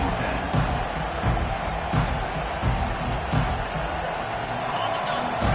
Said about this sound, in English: this crowd is letting them have it